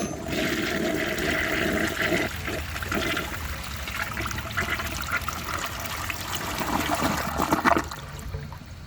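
A 1937 Standard Madbrook low-tank toilet flushes a grocery bag, giving a loud, continuous rush of water that swirls and gurgles for about nine seconds and peaks near the end, with no talking.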